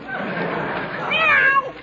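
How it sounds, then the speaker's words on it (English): Cat meows sharply after its tail is stepped on in an old radio comedy, rising and wavering late over a dense background murmur. "I didn't mean to step on your tail. Now, Scat Cat, scram, go, outside"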